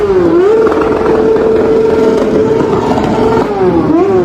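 A motorcycle engine at a motorcycle gathering in Prilep revs loudly and close by. It holds a steady high drone, dipping and climbing in pitch at the start and the end.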